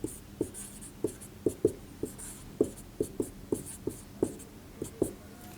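Chalk or marker strokes on a board during a physics lecture on vectors, a steady series of about a dozen short taps and scratches at an uneven writing rhythm, close and clear with no talking.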